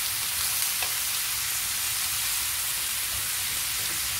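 Sliced zucchini and mushrooms frying in a pan give a steady, loud, close sizzle that holds evenly throughout with no talking.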